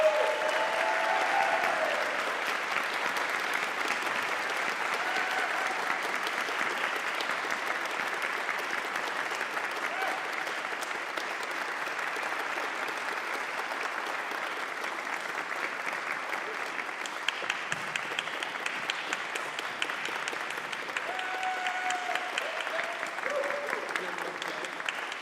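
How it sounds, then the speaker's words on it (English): An audience at a community band concert applauds a departing band member, sustained, dense clapping that fills the room and holds steady without letting up. "So one more round of applause and thanks to Jess for all of her hard work."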